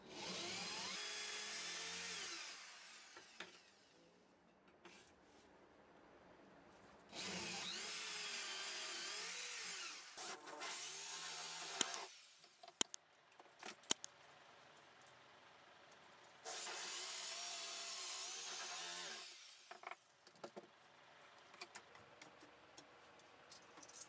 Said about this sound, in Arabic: وبعد كده باستخدام الشنيور هبدأ أخرم الأماكن اللي أنا حددتها.